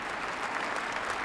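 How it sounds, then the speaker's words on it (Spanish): Loud, dense applause from Russian politicians and military personnel filling a hall during a speech by Putin, a steady wash of many hands clapping at once without a break. "Entre fuertes aplausos de políticos y militares rusos"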